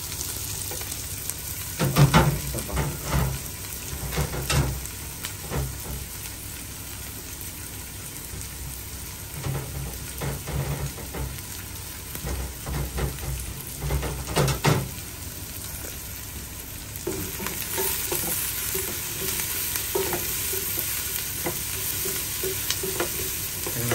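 Garlic and chili frying in a pan while cooking pork estofado: a loud continuous sizzle broken by repeated scraping stirs, with the hiss brightening near the end.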